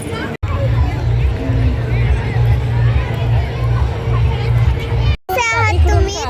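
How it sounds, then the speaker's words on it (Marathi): A dense holiday evening crowd fills the grounds of a Swaminarayan temple with steady babble and children's voices at play, loud and continuous. It cuts out twice briefly, and a nearby voice speaks clearly at the end. "आता पण खूप गर्दी झाली आहे. आज हॉलिडे असल्यामुळे खूप गर्दी आहे."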